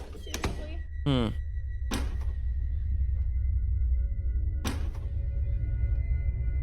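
Dull bangs hit a door inside a home in three separate knocks spaced a few seconds apart, each sharp and fairly close over a steady low room hum, with a brief squeaky chirp between the first two.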